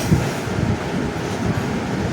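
Steady low rumble of the Konkan Kanya train running between Thane and Ratnagiri in the rain, continuous and fairly loud throughout, with no voices.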